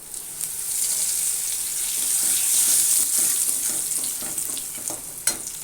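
Asafoetida and curry leaves sizzle and crackle steadily in hot oil for a ginger pickle, a loud continuous frying hiss with small pops and one sharp spatter near the end, no voices.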